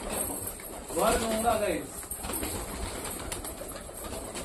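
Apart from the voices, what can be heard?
pigeons cooing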